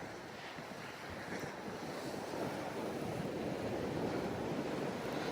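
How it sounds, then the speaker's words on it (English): Wind blowing at a seashore during rock fishing: a steady, broad rushing roar of gusts buffeting the microphone with surf behind it, growing slightly stronger toward the end, no voices. "I hope the wind is not affecting the audio"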